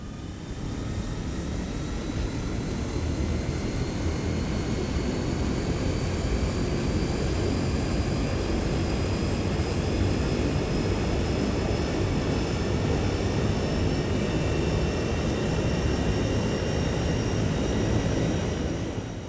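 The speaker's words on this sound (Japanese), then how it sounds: "パワーを上げた際にはターボプロップのサウンドが響き渡ります" The Rolls-Royce Dart turboprop engines of a simulated YS-11 airliner run at power with a steady, dense roar and a high-pitched whine riding above it, holding constant and loud with no talk.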